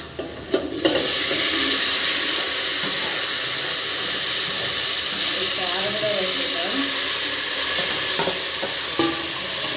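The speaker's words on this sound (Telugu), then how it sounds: "ఇప్పుడైతే టమాటాస్ వేస్తున్నా." Tomatoes dropping into a hot pan of onions, sparking a loud, steady sizzle and steamy hiss that runs throughout, with stirring scrapes and a voice talking faintly over it.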